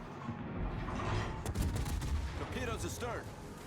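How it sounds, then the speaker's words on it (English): Ship guns fire in a World of Warships naval battle, with heavy booms and rumbling blasts close up. Game sounds and voices overlap throughout. "Yeah, Ven shot us"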